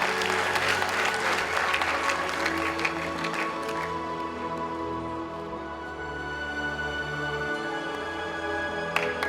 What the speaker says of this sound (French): Ça s'applaudit très très fort